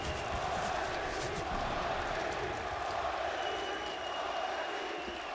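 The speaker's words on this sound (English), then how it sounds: "A rousing chant from the crowd, and why not?" At an esports arena during a Natus Vincere versus G2 semifinal at IEM Katowice 2022, a large crowd chants and roars in a steady, loud wash, with faint voices mixed in.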